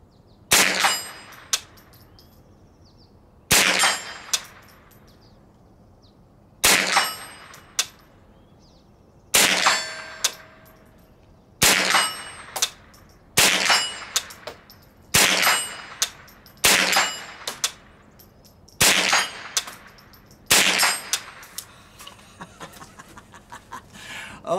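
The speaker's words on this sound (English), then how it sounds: "So down there at 50 yards, we have some steel plates. I'm gonna shoot the 8-inch plate." A Tippmann M4-22 rifle fires single shots at steel plates 50 yards downrange on an outdoor range, each sharp crack followed by a ringing metallic clang, about a dozen spaced shots.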